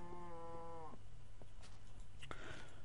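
A Minecraft cow moos once in a clear, drawn-out call with steady harmonics, followed by faint game clicks and small sounds.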